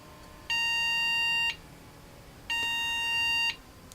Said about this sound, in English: if I take the RAM out, we actually get a beep code.